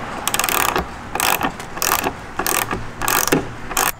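Bolt on the taillight panel of a 2018-or-newer Volvo XC60 being undone with a ratchet: six bursts of rapid, close-up clicking, each under a second long, separated by short pauses, with no talk.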